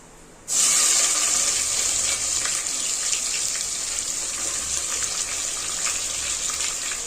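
Green chillies and chopped onions hit hot oil where cashews are frying for coconut milk rice, setting off a loud, steady hiss that begins abruptly after a brief quiet moment and continues without a break.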